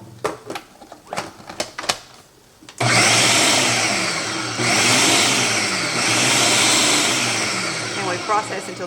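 A blender pulses Velveeta and potato soup, roaring loudly and steadily for several seconds after a few soft taps and clatters, then briefly easing and picking back up.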